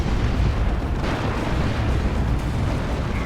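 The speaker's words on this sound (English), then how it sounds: "it's a rocket run." Rocket run explosions in the Dawn of War 2 strategy game form a dense, continuous rumbling barrage of booms and bursts, loud and sustained throughout with no speech.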